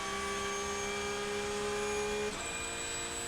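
A Porsche 911 GT3 Cup race car's engine holds a loud, steady high-pitched drone on the straight at Magny-Cours, heard onboard, then drops sharply in pitch at an upshift and climbs again.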